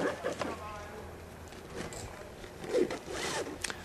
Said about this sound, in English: Just getting them in there, zipping it up.